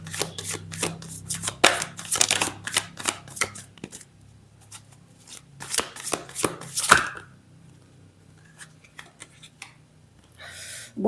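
Tarot cards being shuffled in quick riffling bursts and taps, close and crisp, busy at first and then thinning into scattered soft handling sounds, with no talking.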